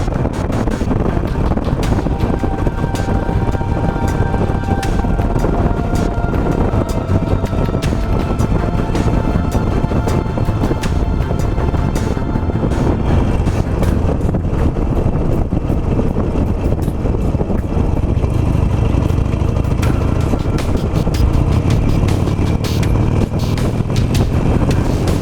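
A 17-year-old Harley-Davidson Nightster motorcycle rides along a road, its engine a steady low rumble heavily mixed with constant wind roar across the microphone.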